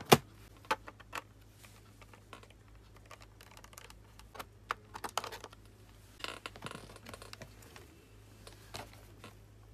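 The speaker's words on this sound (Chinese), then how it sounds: "我们把这个螺丝拆开" Small screws being unscrewed from the memory compartment on the underside of a laptop, scattered light clicks and scratches of a screwdriver heard up close and fairly quiet, with no speech.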